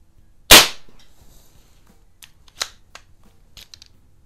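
A .177 CO2 pellet pistol, Webley Nemesis or Ampell Acro 1, fires one sharp, loud crack, followed by fainter clicks and small metallic ticks as it is handled and cocked.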